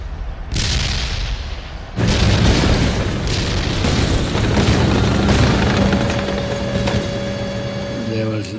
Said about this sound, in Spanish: Había morteros y proyectiles de artillería pesada volando por todas partes